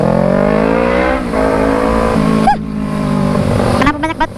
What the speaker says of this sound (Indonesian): Ini ada truk nih, ntar dulu ya, ada truk.